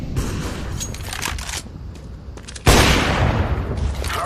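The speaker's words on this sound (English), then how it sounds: "Deploying flashbang." In a video game, a flashbang goes off with a sudden loud blast that floods into a sustained harsh roar, preceded by scattered rapid gunfire and clatter.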